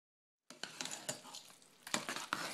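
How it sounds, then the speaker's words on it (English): Egg noodles and sauce get stirred together in one big pan, with soft scraping, wet squelching and a few utensil clinks against the metal after a brief silence. "Okay, I am ready to mix it up here."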